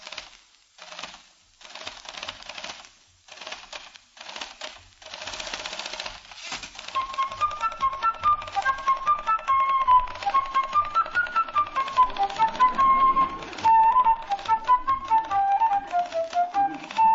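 A typewriter played as percussion to imitate a fife and drum corps on an old-time radio show: sparse clacking at first, then rapid rhythmic typing under a bright whistled fife melody, loud and close.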